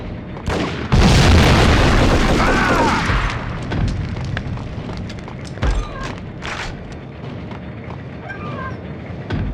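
A grenade detonates in the 2001 PS2 game Max Payne with a loud, booming blast that decays over about two seconds, followed by quieter in-game noises and brief sharp clatters.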